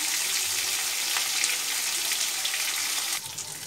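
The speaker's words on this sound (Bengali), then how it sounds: "মাছের মাথাটা ভাজা হচ্ছে।" A fish head fries in hot oil for a Bengali ash gourd curry, giving a loud, steady, close sizzle throughout that drops slightly in level near the end, with no talking.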